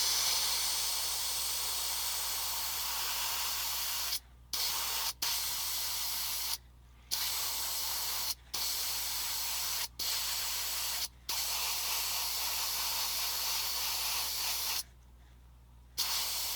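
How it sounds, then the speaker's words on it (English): Airbrush or spray paint hissing onto a 1/87 scale resin wrecker model in glossy blue, a steady close hiss in long bursts broken by several short pauses, over a low background hum. "then I'm going to spray that blue, a glossy blue"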